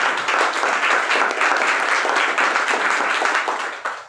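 An audience applauds at a product presentation, a dense burst of many hands clapping loudly and steadily for about four seconds before tapering off.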